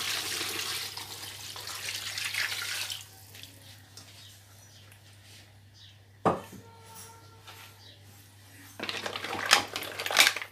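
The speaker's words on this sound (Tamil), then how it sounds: "அதனால் எட்டு கிளாஸ் தண்ணி இப்போ சேர்த்துக்கலாம்" Water is poured into rice in a pan for paella: a steady splashing pour at the start, a sharp metallic clink midway, then another noisy burst of pouring at the end.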